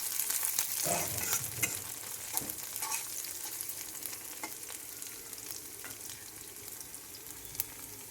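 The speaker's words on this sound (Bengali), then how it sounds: "পেঁয়াজ লঙ্কাগুলো একসঙ্গে মিশিয়ে নিচ্ছি।" Onions and green chillies are stirred together in hot oil, a steady sizzle broken by scraping knocks of the spoon against the pan, loudest early on and settling into a softer frying hiss.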